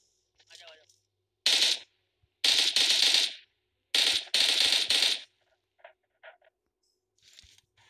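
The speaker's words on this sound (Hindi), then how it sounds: "उनकी आपस में फायरिंग फाइट हो रही है।" Gunfire exchange in PUBG Mobile, loud bursts of automatic rifle fire in several volleys with short pauses, followed by fainter scattered shots.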